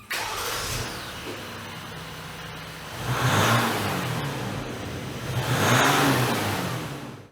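A 2020-2021 Jeep JL EcoDiesel fitted with an MBRP filter-back exhaust idles close by, then gets two strong revs that climb and drop back, with no talking.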